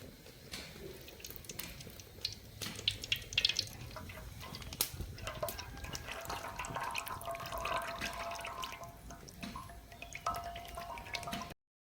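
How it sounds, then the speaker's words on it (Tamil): Cooking oil being poured into a pan for frying honey candy batter, a soft continuous liquid trickle with faint drips and splashes, quiet and close, with no talking. "எண்ணெயை ஊற்றிக்கலாம்."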